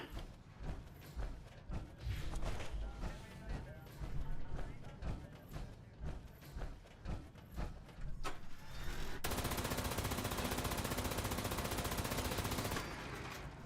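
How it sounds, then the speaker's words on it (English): Gatling laser firing in the video game Fallout 76: dense rapid bursts at first, then a sustained loud hissing, crackling stream of fire from about nine seconds on, with game effects around it. "use a really big loud Gatling laser? Because that's what I'm doing."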